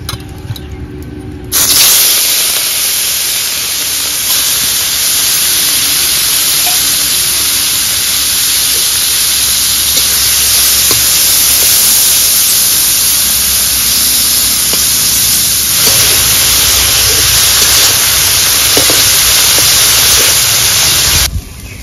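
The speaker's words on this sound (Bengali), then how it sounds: "তেল গরম হয়ে গেছে, চিংড়ি মাছ ভেজে নেব।" Prawns fry in hot mustard oil in a heated kadai, bursting into a loud, steady hiss of sizzling after a short quiet start and sputtering on without a break to the end.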